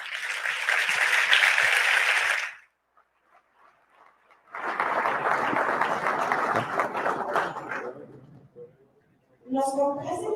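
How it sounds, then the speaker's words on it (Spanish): Audience applause for a speaker at an event on swine-farm biosecurity. Two bursts of even clapping, each a few seconds long, are separated by a near-silent gap, and a voice starts speaking at the end. "un aplauso para el médico"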